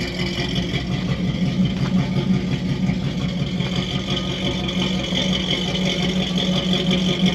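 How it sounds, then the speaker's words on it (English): A 1964 Ford F100 truck, lowered, idles with a steady low rumble, close and constant with no talk over it. "this truck sounds amazing."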